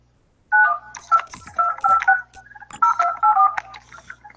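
Telephone dialing tones in Fortnite, a clear sequence of about a dozen short beeps in two quick bursts separated by a brief pause, loud and close, with no talk.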